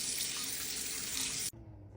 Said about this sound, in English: now I'm just gonna fill this with a little bit of water